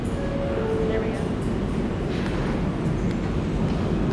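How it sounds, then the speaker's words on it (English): New York subway train rumbling past at close range, a loud continuous roar of wheels and cars with faint squeals, steady throughout. "Gotta wait for the train to go by."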